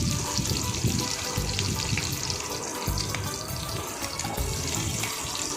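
Large onion pieces frying in hot oil for spicy egg noodles, a steady, loud, dense crackle that stays even through the whole stretch with no talk over it.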